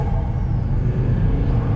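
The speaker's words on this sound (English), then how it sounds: "Yep, it does spin front tires." A Volvo S60R accelerates hard while its front tires spin, a loud, steady low engine and road rumble heard from inside the car.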